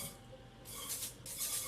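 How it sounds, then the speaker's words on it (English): Two short bursts of cooking spray hissing onto a muffin pan, each lasting about half a second, close and fairly loud, with no talking. "We just spray it just so that nothing sticks."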